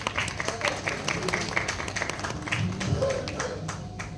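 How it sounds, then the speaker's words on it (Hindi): Audience applause for an award recipient at a Bollywood iconic awards ceremony, a dense, steady patter of clapping throughout, moderately loud and close. "जोरदार तालियां मनोज जी के लिए"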